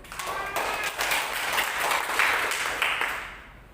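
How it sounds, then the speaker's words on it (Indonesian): A church congregation claps together in a broad, steady wash of applause that swells and holds, then fades toward the end. "Tepuk tangan buat Tuhan Yesus."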